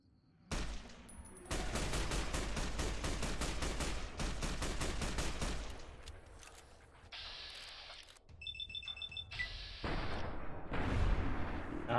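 Rifle fire at feral ghouls in Fallout: New Vegas: rapid bursts of gunshots in long volleys, then mechanical reload clicks and further shots, loud and close, with no voices.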